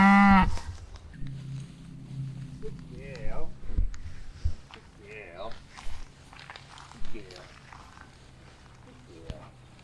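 Cattle just sprayed against flies low repeatedly in a rural yard, several separate moos at close to moderate distance, with a few footsteps and some talking.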